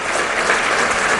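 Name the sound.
audience clapping to welcome the chief guest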